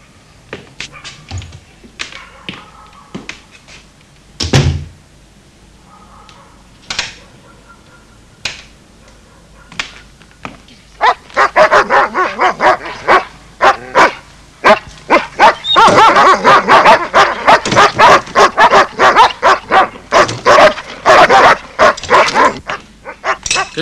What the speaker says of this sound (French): Que se passe-t-il avec les chiens?